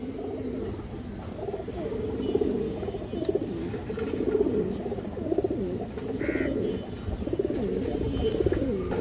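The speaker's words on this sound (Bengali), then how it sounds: "এই দেখেন সুন্দর একটা মাদি কবুতর" A female Sabchila high flyer pigeon cooing: soft, repeated low throaty coos in a steady rolling rhythm, close and moderate in level, continuing throughout with faint background chirps.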